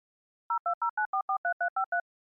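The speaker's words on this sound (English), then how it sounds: "Let me phone my manservant Francois" Ten quick, evenly spaced telephone touch-tone beeps sound in rapid succession as a number is dialed, clean and alone with no talking.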